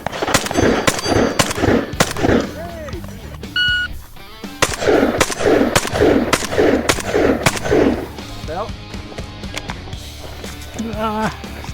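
Shotgun shots ring out at a shooting range in a rapid series of sharp, loud blasts with short pauses between them, mixed with shell-loading clicks and a voice talking now and then.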